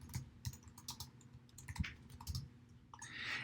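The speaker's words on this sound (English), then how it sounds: "I'm going to type in balance sheet." Fingers type steadily on a computer keyboard nearby, a quick, uneven patter of crisp key clicks that keeps going throughout.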